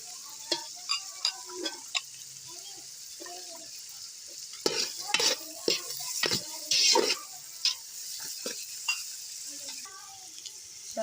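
Vegetables with capsicum and black pepper stir-frying for Chinese rice, soft sizzling under repeated scraping and clinking of a spatula against the pan, a steady tick-like rhythm close by.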